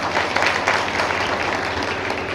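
A large crowd at a public lecture and Hindu gathering claps, producing dense, loud and steady applause that fills the whole short stretch.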